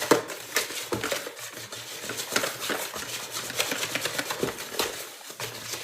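Cornbread batter made with buttermilk being whisked in a bowl, a rapid run of light clicking and scraping strokes against the sides that carries on steadily throughout, close and fairly loud.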